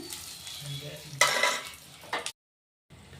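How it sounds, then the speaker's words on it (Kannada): Dry red chillies and curry leaves fry in oil in a pan for puliyogare powder, giving a continuous crackling sizzle with a brief louder burst of stirring and scraping, then a short silence before the sizzle resumes. "ಸ್ವಲ್ಪ ಫ್ರೈ ಆಗಲಿ ಒಣಮೆಣ್ಸಿನ್ಕಾಯಿ ಕರಿಬೇವು"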